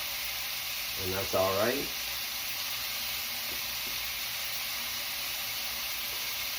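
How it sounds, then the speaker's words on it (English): Beef patties and a whole sliced onion sizzle on a griddle, a steady broadband hiss that runs through the clip, with someone talking briefly near the start. "We got our beef cooking."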